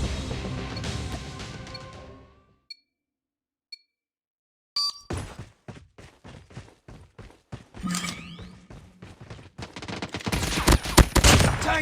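Gunfire in the survival video game Rust, dense rattling volleys that break off into near silence with a couple of faint beeps, then return as rapid sharp bursts and end in a loud, crowded barrage.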